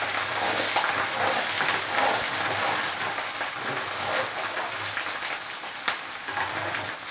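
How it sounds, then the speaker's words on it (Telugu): Ginger garlic paste fries in hot oil with a dense, even crackle that holds at moderate loudness throughout, with occasional sharper pops. "బాగా పచ్చివాసన పోయేదాకా వేయించుకోవాలి."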